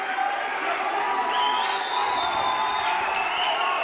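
A crowd at a combat sports fight cheers and whoops in a sustained roar, with shouting voices rising partway through and a commentator talking over the noise.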